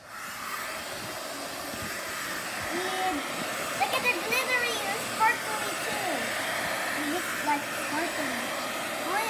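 A hair dryer blows with a steady, airy whir throughout as dogs are dried after a bath, while people talk intermittently nearby over the constant hum.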